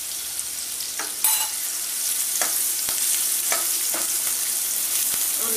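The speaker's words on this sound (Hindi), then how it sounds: "और एकदम से अब प्याज डाल देंगे" Chopped onions sizzle steadily in hot oil with asafoetida, a dense continuous frying hiss broken by occasional stirring clinks and scrapes, close and fairly loud with no talk.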